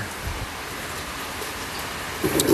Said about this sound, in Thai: ถ้าได้ยินเสียงฝนก็ขออภัยด้วยนะ